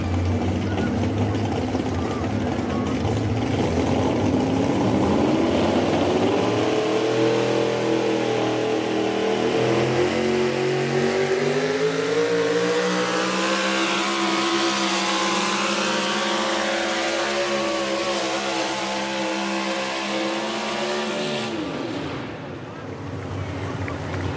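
A turbocharged or supercharged pulling machine at a pull-off event roars loudly and continuously, engine pitch climbing steadily under load for about twenty seconds before cutting off abruptly near the end.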